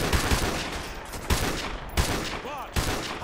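Bursts of automatic gunfire in Call of Duty Modern Warfare 2 Remastered, loud and close, with several sharp volleys cracking out in quick succession over a continuous dense battle din.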